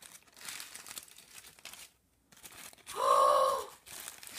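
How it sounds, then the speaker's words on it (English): Wrapping paper on a gift crinkles and tears softly in short bursts, quiet and close, with a brief louder rustle near the end. "Let's unwrap it together."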